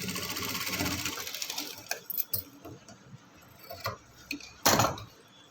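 Sewing machine stitching the back part of a frock, a rapid mechanical whirr up front followed by short bursts of stitching and clicks as the fabric is adjusted, close and fairly loud.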